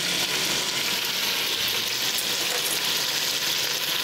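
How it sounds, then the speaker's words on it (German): Meat seared over high heat in a frying pan gives a loud, even, continuous sizzle that holds steady throughout, with no talking. "Erstmal schön scharf anbraten."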